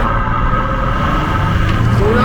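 A 2014 Bentley Flying Spur luxury sedan's engine drones loudly and steadily from inside the cabin, its pitch climbing in a short rev toward the end.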